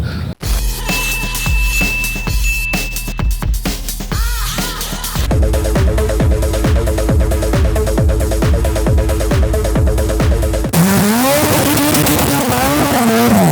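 A rear-wheel-drive Honda Civic with a turbocharged K20 engine revs hard and loud, with repeated throttle blips rising and falling, then a sustained high-pitched whine as it winds up near the listener.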